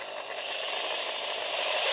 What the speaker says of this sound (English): This one's got a reverse on the drill